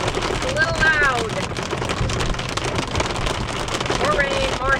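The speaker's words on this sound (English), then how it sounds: "More rain, more hail." Rain and hail fall in a steady, dense patter that keeps a constant level throughout, with a person's voice faintly audible over it at times.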